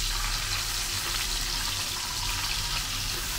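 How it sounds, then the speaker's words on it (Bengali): Bata fish frying in a pan for a thin cucumber curry, a steady broadband sizzle with light watery crackle running continuously throughout, close and fairly loud, with no voices. "তার জন্য বাটা মাছগুলো ভেজে নিচ্ছি।"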